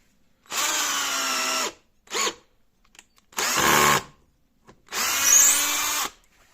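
A Parkside cordless drill driver drives a screw into wood in three loud whirring runs with a short blip between, separated by pauses.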